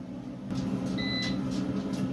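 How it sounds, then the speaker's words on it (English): A kitchen timer gives a single clear electronic beep lasting about a third of a second over a steady low kitchen hum, while chicken skins are being crisped with garlic and syrup. "that was a good timer, wasn't it?"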